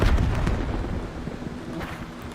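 A frag grenade goes off in a video game with a heavy, low boom at the start that rumbles and slowly fades over a couple of seconds.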